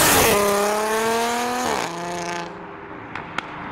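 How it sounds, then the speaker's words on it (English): A McLaren Artura pulls away from a car show with a loud rising engine note that climbs through a gear change and fades as it departs, followed by a couple of sharp clicks. "Now we have the McLaren Artura making use of its electric motors"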